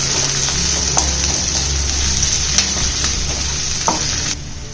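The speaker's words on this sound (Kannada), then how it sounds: "ಈಗ ಸ್ವಲ್ಪ ಫ್ರೈ ಆಗಲಿ." Ginger and garlic fry in hot oil in a pan with a steady, close hiss and sizzle, and a few soft clicks of stirring come through until the sound thins out at the end.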